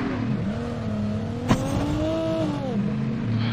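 A video-game car in Call of Duty Mobile drifts with a steady, close engine drone that rises and falls in pitch, broken by one sharp knock partway through, with no talk over it.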